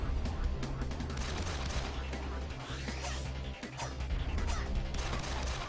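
Rapid bursts of gunfire from the video game The Dishwasher Vampire Smile, dense and continuous over a layered music bed with overlapping impacts and clashes, loud throughout with no clear pauses.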